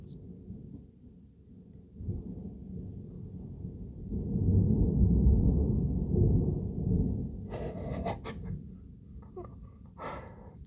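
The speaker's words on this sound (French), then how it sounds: "Oh, l'orage se rapproche clairement." Thunder from an approaching storm in Alsace rumbles low and long, swelling to a broad roll and fading, followed by a few faint crackling sounds close by.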